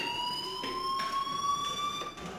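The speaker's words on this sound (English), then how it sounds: "Hey, do you hear that fire alarm? That means you should be outside." In the video game Life is Strange, a fire alarm rings in a continuous high electronic tone, pulsing roughly every half second at a moderate, slightly distant level, with no voices over it.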